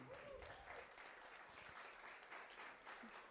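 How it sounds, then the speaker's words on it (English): Students at a university orientation applaud themselves, a steady wash of clapping from a room of people lasting a few seconds with faint voices mixed in. "give yourselves a rousing round of applause"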